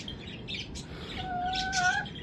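Bird chirps and calls from lakka pigeons kept as a breed, including two drawn-out tonal notes near the end over steady low background rumble; no flapping or clear cooing stands out.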